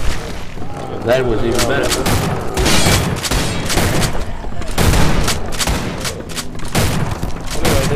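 Gunfire in the Night Frontier 2 game at Haunted Hell's Reach, dense bursts of shots and booming impacts throughout, loud and close, with someone speaking over it.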